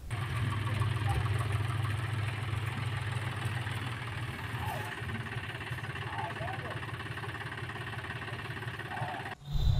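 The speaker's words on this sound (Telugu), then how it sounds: "ట్రాక్టర్ కాస్త జేసీబీ పనిచేస్తున్నప్పుడు తీసిన వీడియో ఇప్పుడు సోషల్ మీడియాలో వైరల్గా మారింది" A tractor rebuilt as a JCB-style dozer runs with a steady, rumbling engine drone throughout, voices faint in the background, ending in a sudden louder jolt.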